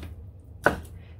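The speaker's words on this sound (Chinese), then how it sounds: "輕輕切佢幾刀就得噶啦" Knife lightly chopping raw shrimp for dumpling filling, a single crisp chop against the board amid quiet room tone.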